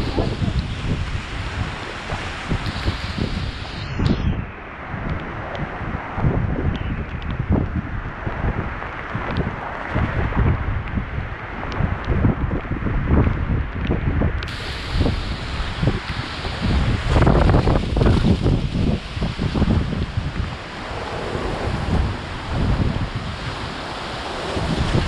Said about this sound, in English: Looks like we're going to be entering a wind tunnel right now.